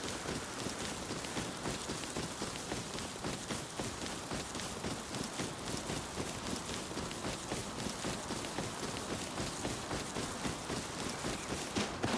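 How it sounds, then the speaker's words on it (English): Rain in the video game Rust: a dense, steady patter of drops throughout that sounds like rapid footsteps, with no talk. "the freaking rain sounds like footsteps"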